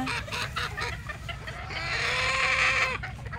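Several hens in a breeding pen cluck and squawk close by, their calls overlapping, with one drawn-out cackle rising louder toward the end.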